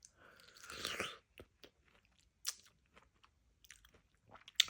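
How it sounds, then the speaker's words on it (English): Crunchy pineapple is chewed close to the mic, with a burst of wet crunching early on followed by quieter, intermittent bites and mouth sounds in a still room. "It's not too hard to eat because like pineapple is actually like quite crunchy"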